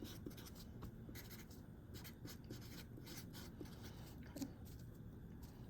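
Pen or pencil scratches across paper while a chemistry stoichiometry calculation is written out, a faint, close, continuous run of short scribbling strokes and taps with no voice over it.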